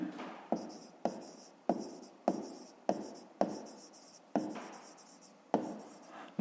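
Pen strokes writing a fraction during a fifth-grade maths exercise, about ten short scratchy taps and strokes in an even rhythm, close and alone.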